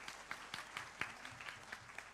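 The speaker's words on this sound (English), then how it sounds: "Can we give him a round of applause?" At a management association event, a small audience claps faintly in a sparse, rhythmic pattern of individual claps, recorded from a distance and quiet overall.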